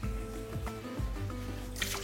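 Soaked dried tomatoes squeezed out by hand, giving soft close wet squishes and drips in a short quiet burst with no talking.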